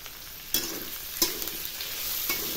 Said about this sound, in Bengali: ক্যাপসিকামগুলো ভাজা ভাজা হয়ে গেছে সামান্য। এবারে দিয়ে দিচ্ছি টমেটো কুচি।